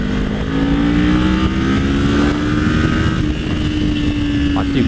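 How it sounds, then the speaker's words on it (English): A small Kawasaki 400 motorcycle accelerates hard with a steady, loud engine drone rising slightly in pitch throughout, recorded close up with rushing wind noise over it. "I do love the amount of acceleration this bike's got. For a little 400, she really does go."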